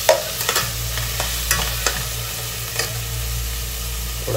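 Tomato, onion and garlic fry in a pan with a steady sizzle, while a spoon scrapes and stirs in several sharp clicks through the few seconds; no one speaks.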